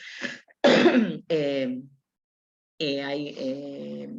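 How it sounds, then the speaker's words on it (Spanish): A person clears their throat and coughs harshly, then speaks briefly; the raspy bursts come close and loud between short vocal sounds. "ya empezó mi tos"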